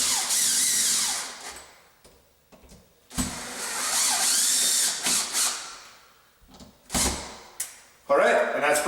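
Bursts of a power drill driving in the mounting screws of a two-way light switch during home wiring, several short whirring runs separated by pauses, close and fairly loud.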